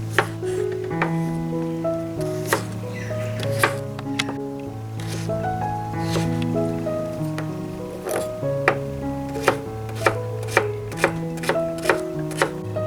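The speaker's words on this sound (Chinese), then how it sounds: "胡萝卜切丁" Carrots are diced with a knife on a cutting board, producing a run of crisp, close chops in an uneven rhythm that quickens toward the end, with no talking.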